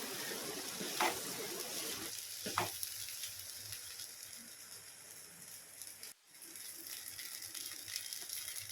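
Cabbage rice is heated and stirred in a pan, producing a steady soft sizzle with occasional scrapes of the spoon, close and moderately quiet with no voices.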